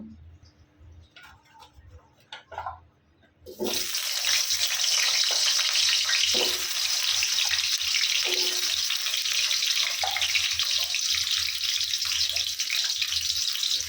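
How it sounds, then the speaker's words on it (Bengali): Potatoes frying in white oil for a pigeon meat curry: after a few quiet clinks, a sudden loud, steady crackling sizzle starts and continues, close, with occasional utensil taps. "আমি মাংসে আলু ব্যবহার করবো এই জন্য আলুগুলাকে ভেজে নেব"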